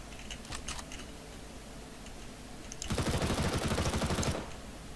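Automatic gunfire in Counter-Strike: Global Offensive, a close, loud rapid burst of shots lasting about a second and a half, with faint keyboard clicking heard earlier.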